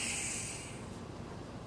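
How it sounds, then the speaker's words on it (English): Excess argon gas escaping from a Coravin wine preserver after pouring a glass, a loud close hiss for the first second that fades into a softer, breathy rush. "That sound is the extra argon gas coming out."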